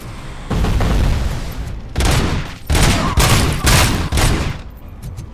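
Gunfire from the video game RoboCop played on PS5: loud, dense bursts of shooting and booming blasts arrive in several surges, with brief gaps between volleys and no talk over them.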